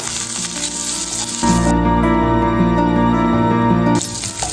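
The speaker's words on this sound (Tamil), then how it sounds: "இப்போ இது எல்லாத்தையும் நல்லா வறுத்துக்கலாங்க" Ginger, garlic and chopped green chillies fry in a pan for bread upma, a continuous bright sizzle and crackle with a sustained tonal hum through the middle, no speech.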